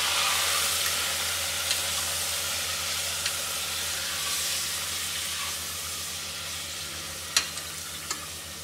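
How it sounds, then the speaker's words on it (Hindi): Minced keema sizzling and frying in a pan, a steady hissing crackle that holds throughout, with a few faint clicks of a stirring spoon near the end. "अब इसमें डालेंगे अपना कीमा, चलाएंगे इसे अच्छे से।"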